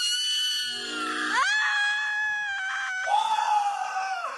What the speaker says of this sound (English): And the temper tantrums and screaming.